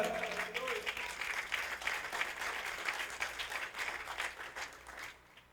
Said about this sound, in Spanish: Dele un fuerte aplauso al Señor esta tarde